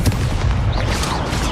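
Confringo explosive spell blast in the Hogwarts Legacy video game: a dense, loud, rumbling burst of booming noise that fills the whole short moment without letup.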